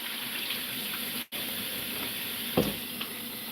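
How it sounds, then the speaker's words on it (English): Hot water poured into a pot of okra soup being cooked, a soft hissing stream and sizzle close by with a brief dropout and a small splash near the end, no voices over it. "I think I'm gonna take hot water instead and add hot water, so it will blend quickly."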